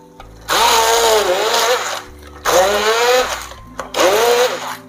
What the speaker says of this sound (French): à l'aide d'un mixeur plongeur, on va venir mixer grossièrement